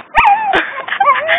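Dogs whimpering and yipping up close, a few sharp yips followed by rising and falling whines that stretch across the short clip, loud and clear with no talk.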